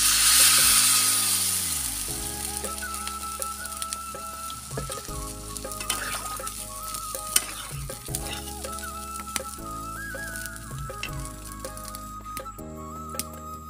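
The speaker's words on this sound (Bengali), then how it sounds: "এখন আমি এটাতে জল দিয়ে দিব।" Water hits a pan of low-oil cauliflower curry with a loud hissing burst that settles into a steady, softer sizzle, with faint metallic stirring taps and a persistent mechanical hum underneath.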